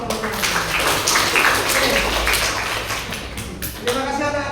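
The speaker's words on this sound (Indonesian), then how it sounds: "Tepuk tangan untuk kelompoknya." A class of students claps for a group of classmates, a lively burst of many hands applauding close by, with voices chattering over it.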